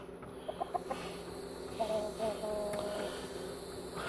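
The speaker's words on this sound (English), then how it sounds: "That's my big daddy rooster right there." Chickens cluck in short bursts nearby, with a brief drawn-out fowl call, over steady background noise.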